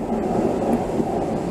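Merseyrail electric train approaching a platform at Chester station, a steady low rumble and rolling hum close by, with no voices.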